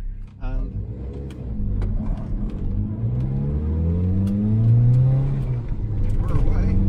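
Zastava Yugo 55A pulling away in first gear, a rorty small engine revving up with rising pitch close by as someone talks over it.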